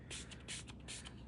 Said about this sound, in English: you're going to spray the spray ink right on here